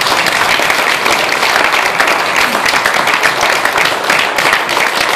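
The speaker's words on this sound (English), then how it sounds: "when I count from 1 to 3, you look out at the audience and they give you that applause" An audience at a hypnotist show in Kinistino breaks into sustained, loud applause, a dense wash of clapping that holds evenly for several seconds.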